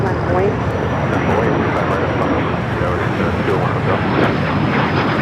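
An airliner takes off from runway 25 right at LAX in Los Angeles, a steady, loud broadband engine roar that holds for the whole stretch while voices talk over it.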